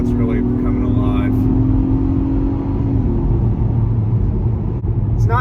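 A 2022 Acura MDX with a naturally aspirated V6 pulls hard from a 25 mph roll, its engine note a rising, steady drone beneath continuous cabin road rumble, with someone speaking over it.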